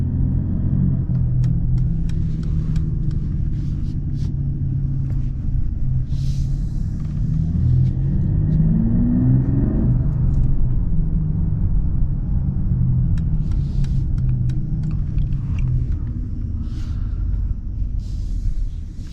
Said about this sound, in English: inline-6 turbo engine.